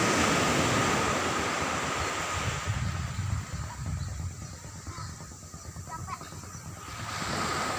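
Surf breaking along Lanco beach in North Aceh, a steady broadband wash with wind noise over the microphone and crows cawing nearby, continuous throughout with a slight swell toward the end.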